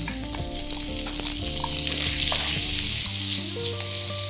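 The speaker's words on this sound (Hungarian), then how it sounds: "Csirkemellfilét meg fogom pirítani rajta." Chicken breast fillet sizzles in hot oil in a frying pan, a loud, steady crackling fry that carries on throughout with no voices.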